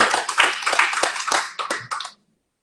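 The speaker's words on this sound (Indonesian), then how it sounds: "berikan tepuk tangan untuk Tuhan" Clapping at a church service as the pastor asks the congregation to applaud God, a burst of claps for about two seconds that fades and stops abruptly.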